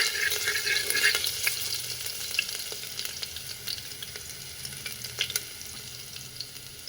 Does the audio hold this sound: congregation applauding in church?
no